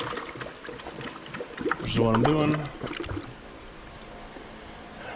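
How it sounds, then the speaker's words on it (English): Someone speaks over Blue Devil radiator flush glugging and gurgling as it is poured into a car radiator. The liquid sloshes close by, loudest partway through. "Add Blue Devil radiator flush,"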